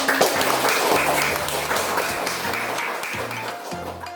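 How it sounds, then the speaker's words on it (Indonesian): Second-grade schoolchildren in an elementary classroom clap their hands together in a loud, close burst that carries on for a few seconds, with a low rhythmic thumping underneath. "Tepuk tangan lagi sekali."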